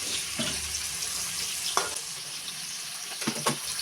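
Two ingredients frying lightly in a pan give a soft, steady sizzle with occasional scraping stirs, heard close and alone.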